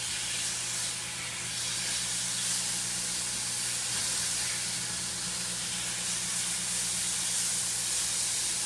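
A venison steak sizzles steadily in a hot pan, a continuous loud hiss with little variation and no talk.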